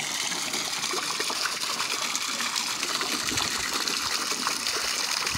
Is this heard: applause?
no